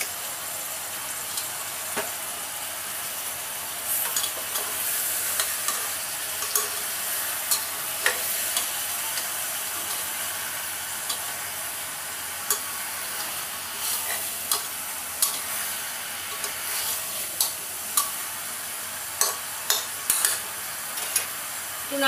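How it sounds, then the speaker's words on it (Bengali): Chicken with salt and turmeric sizzling in a pan while being stirred, a steady frying hiss broken by repeated spoon scrapes and light taps against the metal. "একটু নাড়িয়ে নিই"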